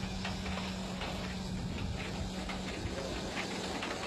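Esslingen E10 rack steam locomotive hauling a twice-weekly goods train on a Sumatran branch line toward Bukittinggi, giving a steady, loud hiss of steam with a rumbling mechanical undertone throughout, no voices.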